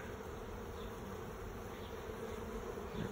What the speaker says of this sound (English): A lot of these bees are dark.